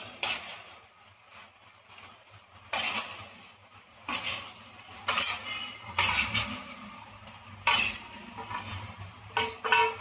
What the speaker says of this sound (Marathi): आता आपण यामध्ये हे आपण तळून ठेवलेले हे जे पनीर आहे हे घालून घेऊया